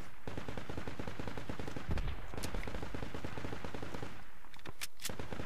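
Gunfire in the tactical shooter Project Reality on the Beirut map: sustained rapid machine-gun bursts rattle continuously, with a few sharper single cracks near the end, loud and dense.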